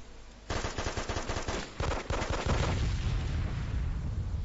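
Rapid gunfire from a .45 pistol in a competitive online shooter match, a fast dense volley of loud close shots that breaks off and resumes, then fades into a rumbling tail.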